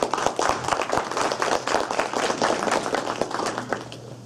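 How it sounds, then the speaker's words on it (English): A room of people at a CodeChicks event for female developers gives their organizer a round of applause, close and lively, with distinct individual claps throughout before it thins out. "So please do give her a round of applause."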